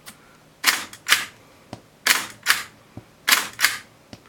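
A Packard No. 6 camera shutter fired in instantaneous mode gives six sharp mechanical clicks in three close pairs, each pair a quick snap-and-return, with faint ticks between.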